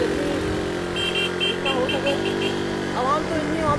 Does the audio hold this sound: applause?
no